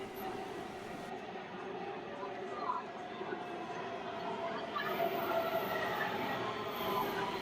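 Steady loud rumble of a subway train in motion, continuous and close, with a faint murmur of voices beneath the noise.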